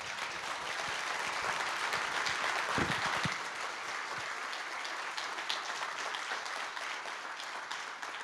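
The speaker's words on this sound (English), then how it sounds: "If we can give them another round of applause." An audience applauds the speakers at a recovery coaching panel, a broad steady wash of clapping that holds for the whole stretch with a brief thump near the middle.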